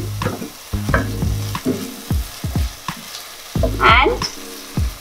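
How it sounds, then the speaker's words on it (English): Onion sizzles in hot oil in a pan while a spoon stirs and scrapes in repeated close strokes, then ginger garlic paste goes in with a brief louder burst of frying; no talking. "My onion has been cooking for around 2 minutes now, and to this I'll add in my ginger garlic paste."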